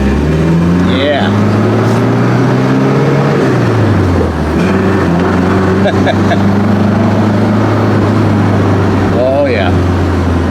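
An Alfa Romeo GTV convertible engine hums steadily while driving with the top down, a loud continuous drone that shifts pitch as the car changes speed, with wind noise throughout.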